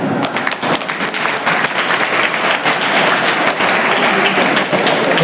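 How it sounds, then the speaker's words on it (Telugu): Students at a Class 10 programme in Kalwakurthy break into loud, sustained applause. Dense clapping fills the room steadily from start to finish, with a murmur of crowd underneath. "చప్పట్లు కొట్టుకోండి"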